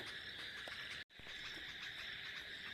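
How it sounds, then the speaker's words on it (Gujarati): Steady, shrill chirping of many insects fills the air in a Gujarat village at dusk after rain, continuous and even, with a single brief break in the middle. "જો ચીચી ચીચી ચીચી ચી ભમરા બોલવા માંડ્યા"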